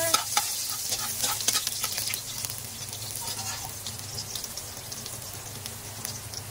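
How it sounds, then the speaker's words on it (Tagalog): Garlic sautés in a hot pan with a soft, steady sizzle and crackle, a little busier at the start and then settling into a quiet, even hiss, with no talking. "ating pong igisa ang bawang"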